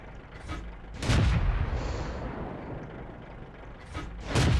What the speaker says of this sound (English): I'm just going to start loading rounds into his side